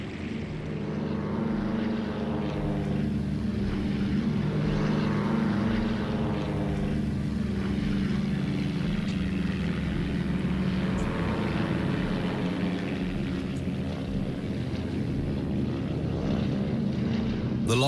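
Propeller engines of a Liberator aircraft drone steadily in flight, a loud continuous low hum with throbbing engine harmonics and gentle slow beating throughout.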